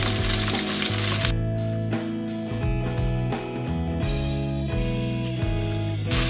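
Shrimp sizzling in a pan for a lemon garlic tomato pasta sauce, a steady close crackle of hot oil that runs the whole time, with no talk.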